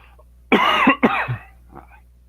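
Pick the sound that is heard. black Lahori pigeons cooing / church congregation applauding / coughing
coughing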